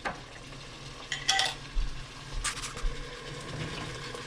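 Prepared garlic hits a hot pan for vegetarian chili, giving a soft sizzle and frying hiss with a couple of stirring clatters of utensil against the pan.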